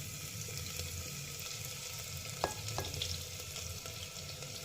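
Garlic sizzles in hot oil for a dal khichdi tadka after asafoetida is added, a steady close frying hiss with a couple of brief clinks.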